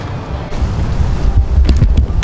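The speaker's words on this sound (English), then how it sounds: "it's windy as hell out here today" Strong wind gusts outdoors beside a charcoal grill being lit, buffeting the microphone with a loud, continuous low roar that swells slightly midway.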